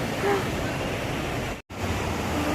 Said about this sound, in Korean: 파도가 너무 멋져요